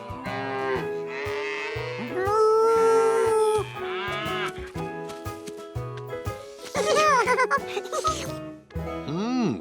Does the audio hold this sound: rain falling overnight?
no